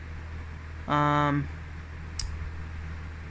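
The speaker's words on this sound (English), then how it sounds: "sorry about the fan behind me. It's gonna make a lot of noise" A fan runs behind a talking person, giving a steady low hum under the voice, with a short bright harmonic tone rising above it near the start.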